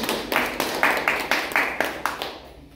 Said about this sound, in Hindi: इस वचन के लिए जोर से ताली बजाएं।